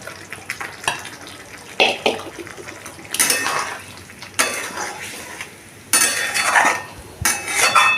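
Fried eggs being stirred into a coriander egg curry in a pan: a utensil clatters and scrapes against the metal in irregular bursts, close and moderately loud, over a faint sizzle.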